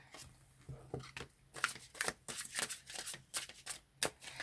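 Tarot cards are shuffled close up, a quick run of crisp riffling flutters and soft slaps repeating rapidly for several seconds with no talk.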